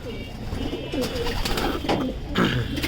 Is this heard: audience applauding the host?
no